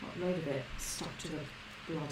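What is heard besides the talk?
None of the usual background noises is heard.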